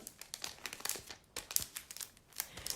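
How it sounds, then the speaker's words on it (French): A card slid into a paper envelope, close and quiet, with a run of soft crinkling and rustling bursts of paper handling over a few seconds. "On peut mettre notre carte dans l'enveloppe comme ça."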